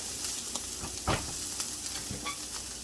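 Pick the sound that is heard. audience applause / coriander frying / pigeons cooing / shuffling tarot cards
coriander frying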